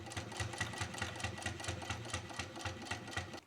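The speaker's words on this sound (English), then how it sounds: "I'm going to top stitch right as close to the edge as I can" Sewing machine top-stitching along the edge of fabric for a van window shade, a steady rapid needle rhythm running close and continuous, alone without talk.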